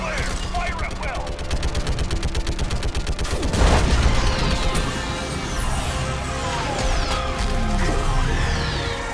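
Dense, rapid automatic gunfire from the Mass Effect 3 video game, loud and continuous for the whole stretch, with whooshing shots and a heavy crash partway through and game voices mixed in.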